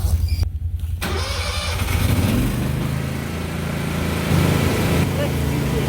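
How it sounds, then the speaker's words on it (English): A Can-Am fitted with a snow plow cranks and fires up in a night blizzard, a brief starter whir settling into a steady mid-pitched engine idle, close and loud, with a voice talking over it. "Gordon's got the snow plow on the Can-Am"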